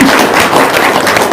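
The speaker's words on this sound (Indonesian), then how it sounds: "Tepuk tangan dulu dong." A small group clapping their hands, a dense, loud patter of applause that fills the whole short moment.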